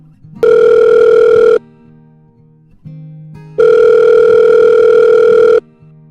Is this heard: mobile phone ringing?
yes